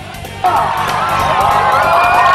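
A festival crowd erupts into loud, sustained cheering and whooping right after a fireworks launch at a lively event, the roar jumping up suddenly and holding steady with shouts layered on top.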